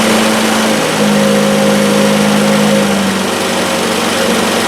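A Triumph Spitfire engine runs loud and steady at fast idle, its tone shifting partway through as the revs ease down, heard alone without voices.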